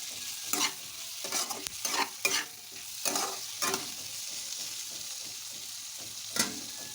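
Vegetables tossed into spiced oil in a pan and stirred, a continuous sizzle broken by repeated sharp scraping strokes, close and without talk.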